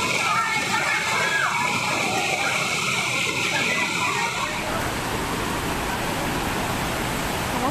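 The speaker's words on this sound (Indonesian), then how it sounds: "Sebuah rumah di Desa Mawomba, Tojo Una-Una, Sulawesi Tengah hanyut terbawa banjir bandang dari Sungai Mayomba." A flash flood from the Mayomba River in Mawomba village, Tojo Una-Una, Central Sulawesi, roars as a steady, loud rush of water sweeping a house away, with a broadcast voice speaking over it throughout.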